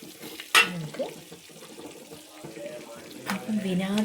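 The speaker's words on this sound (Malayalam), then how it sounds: "വിനാഗിരി ചേർക്കാം കേട്ടോ." Vinegar is poured into a gooseberry pickle, a close trickling stream of liquid that follows a sharp clink of a container.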